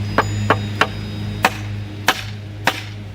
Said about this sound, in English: We're going to hammer this into the ground